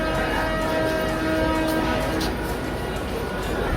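A train standing at a station platform, giving a loud steady rumble and hum with faint squeals, heard up close under a continuous wash of noise.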